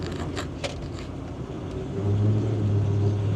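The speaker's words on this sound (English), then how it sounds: "This is the first time I've ever driven a Range Rover Classic" A Range Rover Classic with a 3.9 litre V8 drives along in a steady engine rumble, and the low drone swells and deepens about halfway through as it pulls harder. No one speaks.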